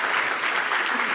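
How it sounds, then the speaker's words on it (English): Conference audience applauding panelists, a brief, dense wash of many hands clapping at once, steady and fairly loud for just over a second. "give them a round of applause again"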